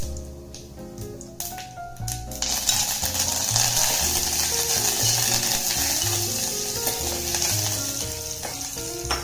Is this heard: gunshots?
no